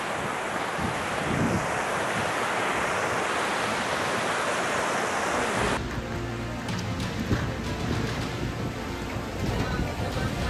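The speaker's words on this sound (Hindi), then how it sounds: "ये भी एक खूबसूरत सा झरना है।" A steady roar of a waterfall along the Harihar Fort trek trail in India fills the air, loud and continuous, shifting partway through as if the listener moves closer or the surroundings change.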